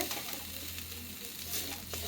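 Spice masala with Kashmiri chili powder frying in oil, a soft continuous sizzle with faint stirring scrapes, fairly quiet and close, no voices.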